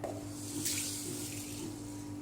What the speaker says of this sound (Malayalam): ഇത്തിരി ഉപ്പിട്ട് ഇത്തിരി വെള്ളം ഒഴിച്ച് ഉണ്ടായിക്കോട്ടെ